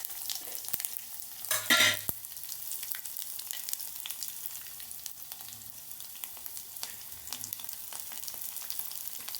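Cumin, curry leaves and two garlic cloves fry in hot oil with a steady, crackling sizzle, opening with a brief louder burst of spattering and scraping before settling into a quieter, even hiss.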